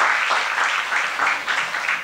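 A church audience claps together, a continuous wash of applause lasting about two seconds, moderately loud and steady with no speech over it.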